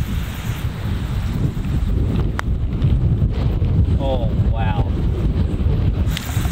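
Strong wind roars across the microphone in a constant low rumble on a New Zealand golf course, with a brief faint chirp or squeak partway through.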